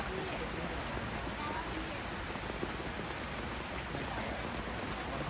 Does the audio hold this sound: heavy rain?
yes